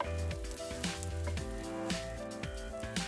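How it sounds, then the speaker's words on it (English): Shiitake mushrooms dipped in egg fry in an oiled pan over low-medium heat, a continuous close sizzle with crackling pops, over soft background music and no speech. "place each on a heated frying pan with oil."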